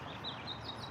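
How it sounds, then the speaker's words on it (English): Birds chirping outdoors in early spring, a few faint high tweets rising over a quiet background with no talk. "I'm hearing the birds chirping right now."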